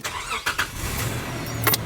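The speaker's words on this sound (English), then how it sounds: "This is gonna fire up right away." A car engine cranks and catches, then runs with a steady low rumble, close and moderately loud.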